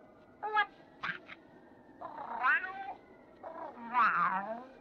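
A cartoon cat from a 1956 Soviet animated film voices a series of drawn-out, wavering meows, four distinct calls growing longer and louder, with no talk over them.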